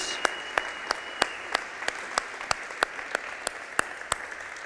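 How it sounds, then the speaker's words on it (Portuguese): Sparse, evenly spaced claps ring out in a church congregation, sharp individual hits about every third of a second over a quiet room, sounding like a small group clapping in rhythm rather than full applause. "E uma salva de palmas para Jesus"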